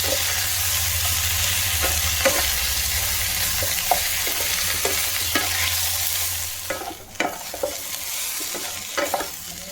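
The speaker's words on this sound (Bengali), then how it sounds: "এক চামচের মতন আদা বাটা দিয়ে দিলাম। হলুদ তো দেবো না, শুক্তো একটুখানি কষে নিয়ে একটু গুঁড়ো মশলা দেবো।" Shukto, a Bengali mixed-vegetable dish, sautés in a pan with ginger paste under a close, steady sizzle, while a spatula scrapes and taps at irregular intervals, more sharply toward the end.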